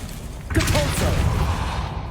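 Depulso spell cast in the video game Hogwarts Legacy: a sudden forceful burst with a swooshing thump about halfway in, trailing into a dense rumbling tail. No speech.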